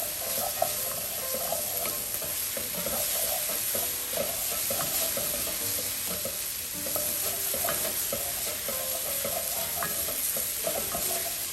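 Vegetables sizzling in oil for a fish stew are stirred steadily in a pan. Irregular scraping and clicking of the utensil sits over a constant frying hiss, close and continuous with no talking.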